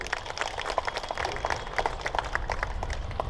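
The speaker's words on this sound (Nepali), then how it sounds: "म त सरको नाममा एकपल्ट ताली पड्काइदिनु पनि उहाँलाई अनुरोध गर्दछु" Audience applause at a hospital-related public gathering in Nepal, a steady dense patter of many hands clapping throughout, moderately loud and continuous with no voices on top.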